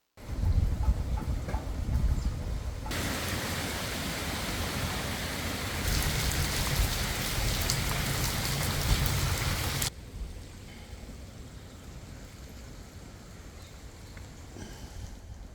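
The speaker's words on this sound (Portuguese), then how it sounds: "Veja a minha chuva aqui no Mato Dentro." Steady rain pours down over rural countryside in the early morning, a dense hiss that swells heavier for several seconds mid-way before easing back to a lighter, continuous patter.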